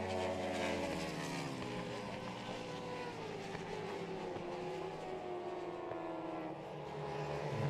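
Racing motorcycles, including a Yamaha YZF R6, at a race on the Oschersleben circuit: a steady, dense high-revving engine whine from several bikes at once, rising and falling in pitch as they pass, moderately distant, with no talking.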